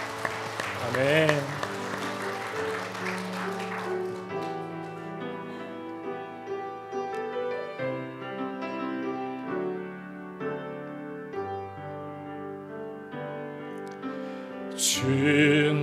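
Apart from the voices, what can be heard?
congregation applause in church service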